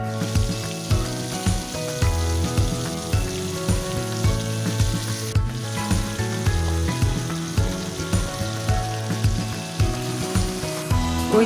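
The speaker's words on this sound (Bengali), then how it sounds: "এবার মাছগুলো নুন, হলুদ, লঙ্কার গুঁড়ো মাখিয়ে ভেজে নেব।" Bhetki (barramundi) fish pieces rubbed with salt, turmeric and chilli powder fry in hot oil for a Bengali jhal, giving a steady close sizzle with rhythmic thumping sounds throughout.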